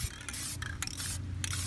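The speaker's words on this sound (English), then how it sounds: "I like to spray paint in the shade" A spray paint can hissing in several short bursts outdoors in the shade, sharp close sprays separated by brief pauses.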